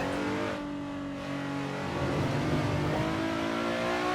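A Nissan 370Z Nismo in Assetto Corsa on the Nordschleife revs hard in second gear, its engine note rising and falling through a brief lift before climbing again, loud and close with no talking.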